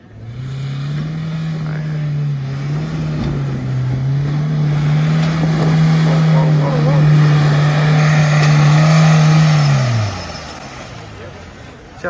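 A Mahindra Thar churns through a muddy pit during an off-road challenge, its engine holding a loud, steady drone for about ten seconds before easing off, with splashing and outdoor background noise around it.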